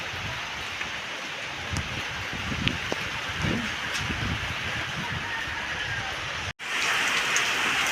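Steady heavy rain falls on a rainy Christmas day in a rural yard with calamansi trees, a dense continuous hiss with scattered drops, briefly cutting out near the end before resuming loud.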